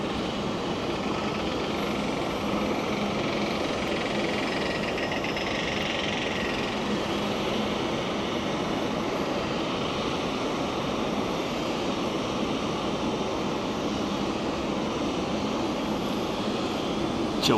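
A Boeing 777 airliner at Sydney Airport produces a loud, continuous broadband engine roar that stays level for the whole stretch, with no talk over it.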